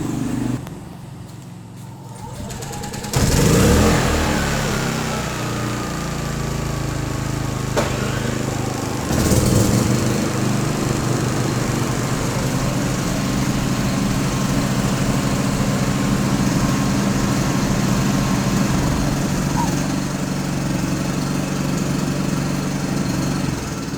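Two Philking portable generators, a PK4200ie2R and a PK3800i, crank and catch one after the other, then settle into a steady loud engine drone that runs on unbroken, with no talk over it.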